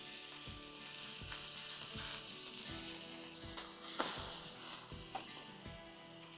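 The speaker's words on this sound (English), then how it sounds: "let's get some bacon down" Bacon slices sizzle steadily in a pan over medium-high heat, a close, continuous crackling hiss with small pops and faint rhythmic clicks, no voices.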